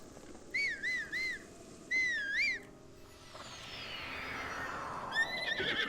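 Horse in the video game Zelda Breath of the Wild answers a call with several whinnying neighs, then a rising whoosh and a final short neigh, with faint outdoor ambience throughout.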